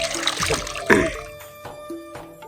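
Clothes being washed by hand at home, with water sloshing and splashing in uneven bursts and a few drips, fairly close and with no talking.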